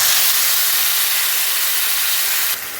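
Burnt mango pulp tipped into hot oil with fried tempering spices for a tangy-sweet Bengali chutney, giving a loud, steady, airy sizzle that holds for nearly three seconds and then eases slightly at the end.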